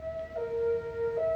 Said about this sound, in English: they're testing the severe weather tornado sirens